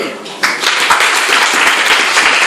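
A church congregation bursts into applause during a Sunday worship service, steady dense clapping rising quickly and holding loud and close with voices mixed in.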